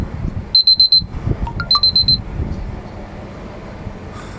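Outside the Royal Courts of Justice in London, a phone alarm sounds two short bursts of rapid, high electronic beeps. It then falls silent, leaving steady low traffic and street rumble.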